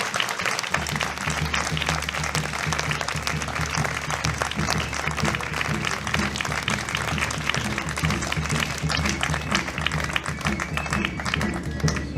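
A crowd applauds the newly crowned young women who will represent Vence for the year at a folk festival coronation, with steady, dense clapping that runs throughout over a low festive background.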